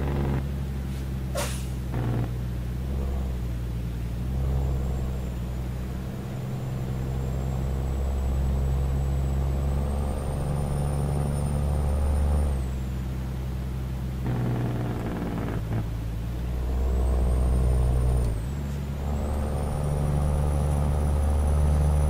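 K100 truck in Euro Truck Simulator 2, its engine droning deep and steady from outside the cab, with rising and falling revs, hissing air-brake releases and whistling turbo tones over the rumble.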